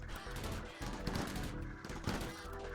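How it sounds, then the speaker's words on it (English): Gunfire in the colony game Rimworld during a duck attack, rapid overlapping shots and crackling bursts rolling on in quick succession at a faint level, with no voices heard. "as they sat inside being bombarded by the sounds of gunfire and avian death throes"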